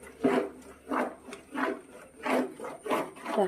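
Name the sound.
stirring jackfruit preserve in a thick-bottomed pan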